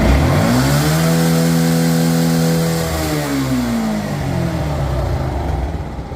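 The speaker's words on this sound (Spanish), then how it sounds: "es el sonido que entrega esta moto" A 2014 Yamaha FZ16 motorcycle engine revs up hard and holds high, its rising harmonic whine falling back as the throttle eases, loud and close with no talking.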